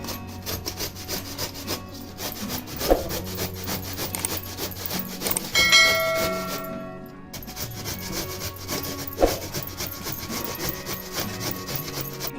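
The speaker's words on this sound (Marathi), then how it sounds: "आता आंबा हा किसून घ्यायचा आहे" A peeled raw mango is grated by hand, giving a continuous rhythmic rasping scrape close by, with a few louder strokes and a brief pause midway.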